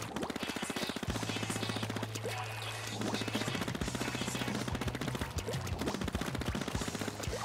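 Splatoon 2 ink gun fires in a steady, rapid stream of wet, popping shots, loud and continuous over busy game music and effects.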